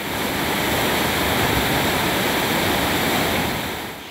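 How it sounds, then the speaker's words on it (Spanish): Rushing water from forest waterfalls near a railway line by the Túnel del Amor in Baños de Agua Santa, Ecuador: a loud, steady, broadband roar that holds constant throughout with no voices. "El ruido del agua nos devolvía a la naturaleza."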